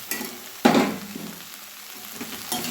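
Brinjal pieces dropped into a hot pan and stirred, a sudden burst of sizzling followed by quieter frying and a couple of utensil scrapes, brief and close.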